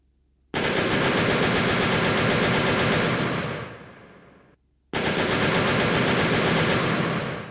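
Rapid automatic cannon fire from an assault cannon in the game From the Depths, a loud dense burst of about four seconds that trails off, a half-second pause, then a second sustained burst.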